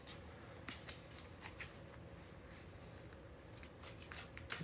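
A deck of tarot cards is shuffled by hand for a reading, giving quiet repeated riffling bursts and soft slaps in an uneven rhythm, close but faint, with no one speaking.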